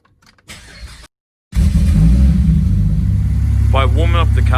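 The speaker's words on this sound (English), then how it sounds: "if the car's cold, to start up the car" A Ford Falcon FG car, started from cold, cranks briefly after a short pause and catches, then settles into a loud, steady idle close by, with a voice talking over the running engine near the end.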